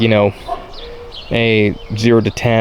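Dogs bark in sharp, loud bursts over and between a man's speech outdoors near a Can-Am Renegade 1000R XMR ATV, the barks repeating irregularly through the moment.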